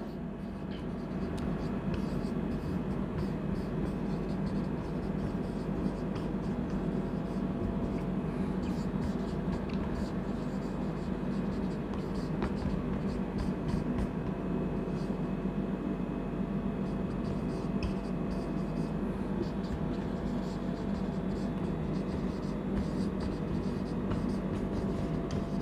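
Chalk or marker scratching on a classroom board during a trigonometry lesson, a steady dry scraping that runs continuously over low background hum with no talking.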